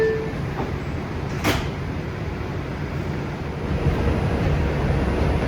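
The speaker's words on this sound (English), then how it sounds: "Stand clear of the closing doors," The doors of a New York City R142 subway train on the 6 line close with a single sharp thump, set against the continuous low rumble and hiss of the idling car.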